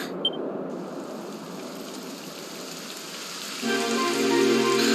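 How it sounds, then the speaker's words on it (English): Rain in the video game Dragon Quest XI, a steady hiss of falling drops on the ground, soft and even, then joined by a brighter layer of game music near the end. "It would have to go and start raining."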